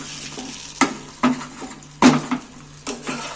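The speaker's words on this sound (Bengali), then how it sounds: "নাড়াচাড়া করে আমি ডিমটা ভেজে নিচ্ছি" An egg fries in a pan while a utensil stirs and scrapes it, giving a few distinct clinks and scrapes over a soft, steady sizzle, close up with no talking.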